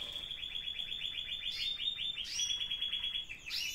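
A bird sings a fast, steady series of high, sweet trilled notes, close and clear, with a brief sharper chirp near the end.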